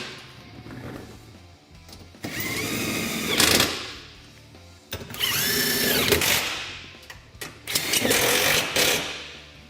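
A power tool tightens skid plate hardware on a Honda Talon 1000 in three loud, close bursts of whirring with brief pauses between them.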